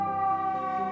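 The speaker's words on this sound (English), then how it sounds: "That was a fire truck" A fire truck siren sounds on South King Boulevard, a steady, prominent wail with strong tonal harmonics over a brief moment, no voices present.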